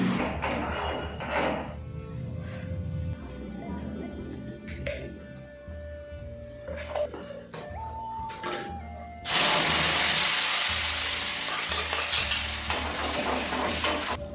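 Chutney sizzling and frying in hot oil in a home kitchen while momos are made, with a spoon stirring and scraping the pan; the hiss swells loudly partway through and stays steady after.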